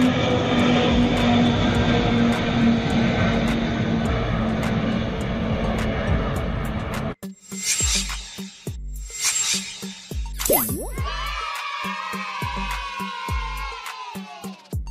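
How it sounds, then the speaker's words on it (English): Antonov An-124 Ruslan heavy cargo aircraft, its engines a steady loud roar for the first half, then breaking into uneven bursts and a rising whine with some clattering, heard alone without voices. "Antonov An-124 Ruslan, one of the heaviest cargo aircraft in the world"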